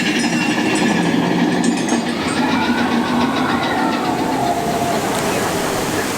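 A Disneyland train rolls past Big Thunder Mountain with a steady engine rumble and rail noise, loud and continuous throughout.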